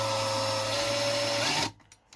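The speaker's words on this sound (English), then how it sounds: "Be very careful when using such a small drill because you might break it." A small 1.5 mm drill bit bores through material in a steady, high-pitched whine for under two seconds, then cuts off abruptly and leaves quiet clicks and handling noise.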